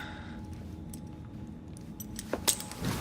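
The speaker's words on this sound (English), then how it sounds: "Now hand over your keys." Keys jangle in a brief, close rattle as they are handed over in Assassin's Creed Syndicate, a few light metallic clinks near the end over a low background hum.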